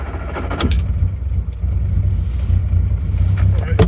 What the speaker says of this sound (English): Anyway, let's give it a start.